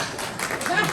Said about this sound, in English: if you want to clap, it's fine